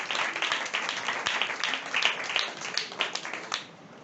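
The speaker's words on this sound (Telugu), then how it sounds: "చప్పట్లతో వారిని ఆహ్వానిద్దాం." A congregation at a church memorial service applauds in warm, uneven clapping that fades toward the end, with a voice faintly underneath.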